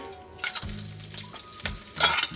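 Rice sizzling and frying in a generous amount of hot oil for egg fried rice, a steady crackling hiss with a few louder bursts as it is stirred, close and clear with no talk.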